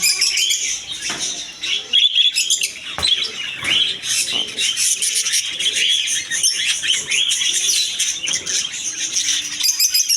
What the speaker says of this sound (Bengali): অনেক সুন্দর একটা রেয়ার পাখি